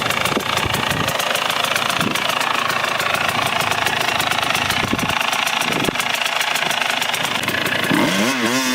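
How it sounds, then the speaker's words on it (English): A 2022 KTM 300 EXC two-stroke, water-cooled dirt bike engine idles close by, a loud, steady rapid putter with a rough knocking texture. "Engine. Very nice engine. 2-stroke, water cooled, with good performance"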